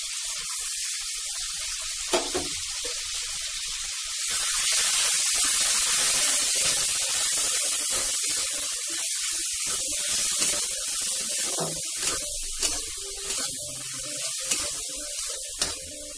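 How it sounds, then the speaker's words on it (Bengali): Grated tomato tipped into a hot pan for a pointed gourd (potol) curry, setting off a loud, steady sizzle and hiss that swells after a few seconds, with a few sharp spatula clinks and stirring scrapes over it. "এরপর দিয়ে দেব গ্রেট করে রাখা টমেটো"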